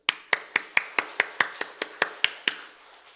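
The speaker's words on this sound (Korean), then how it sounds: "박수 한번 칩시다." About a dozen sharp, evenly spaced handclaps in a quick steady rhythm during a church Christmas sermon, close and crisp, ending with a faint trailing clap.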